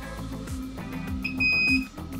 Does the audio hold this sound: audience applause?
no